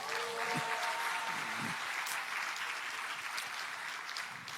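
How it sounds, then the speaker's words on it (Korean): Attendees at a political party's 70th anniversary ceremony clap for a committee chairman in a steady round of crowd applause. It sounds moderately distant and holds evenly throughout. "우리 송춘환 우리 위원장님께 다시 한번 큰 박수 부탁드리겠습니다."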